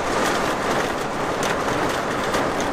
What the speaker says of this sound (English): Hope you can hear me over this rain.